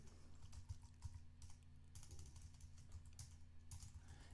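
Computer keyboard typing while entering C# code, a quick irregular run of close, fairly faint key clicks over a low steady hum, with no voices.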